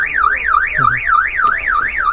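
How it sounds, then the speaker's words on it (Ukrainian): A loud car alarm wails in a rapid rising-and-falling siren, cycling steadily without pause. "Зараз знімають сигналізації, наробили ми трошки шуму."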